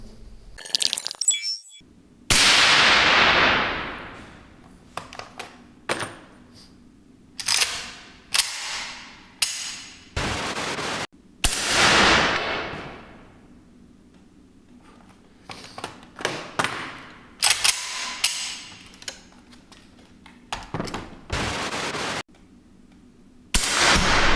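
Sharp, fairly loud rifle shots firing subsonic 7.62x39 ammunition at 50 metres ring out one at a time at irregular intervals, each a crisp crack followed by quiet, with a few faint metallic clinks between.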